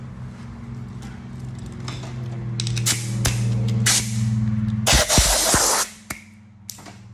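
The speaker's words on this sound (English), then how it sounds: "Let me spray it off." Short hissing bursts of a spray nozzle cleaning a subwoofer part during a recone, one longer blast in the middle, over a steady low electrical hum, with a few clicks and knocks.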